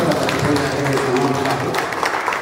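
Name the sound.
audience applause at ceremony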